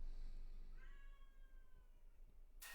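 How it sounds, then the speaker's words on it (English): A pet cat, upset at being shut out of a room, lets out a single drawn-out meow that rises and falls over about two seconds, fairly close by, followed by a brief sharp noise at the end. "Please excuse my cat. She is upset that I'm not letting her in the room."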